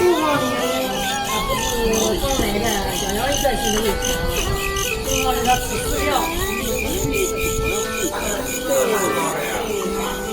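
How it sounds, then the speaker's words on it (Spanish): Dense, steady chirping of many fighting crickets sold at a market in China fills the background, a continuous high pulsing trill, with music or tonal sounds layered over it. "aquí se dan mucho las peleas de grillos y hay muchos grillos. ¿Pueden escuchar?"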